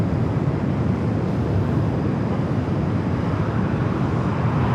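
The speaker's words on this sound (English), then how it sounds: "Also the Hawaiian A330 down there for a south side takeoff" A Hawaiian Airlines Airbus A330 jet rolls for takeoff at Los Angeles airport, a steady broad engine roar heard from a distance and holding constant throughout, with no talk.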